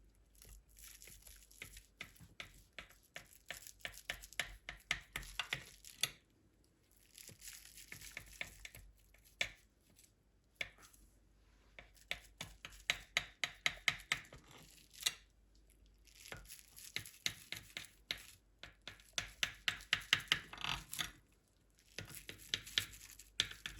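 A knife chops through soft potato croquette mixture in bursts of quick, crisp taps and scraping crackles, broken by short pauses, close and moderately quiet.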